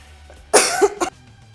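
A single sharp cough followed by a brief second burst, close and loud against a quiet background.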